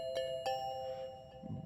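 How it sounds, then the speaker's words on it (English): Bongo bells instrument preset in music software playing two quick bell-like metallic strikes close together, then a sustained ringing tone that fades, with a soft low thump near the end, fairly quiet and with no talking. "Bongo bells."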